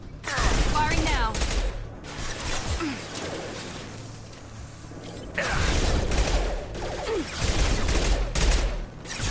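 Rapid bursts of automatic gunfire in a PS4 shooter, loud and close, several volleys with brief lulls between them, mixed with whooshing game effects and faint voices.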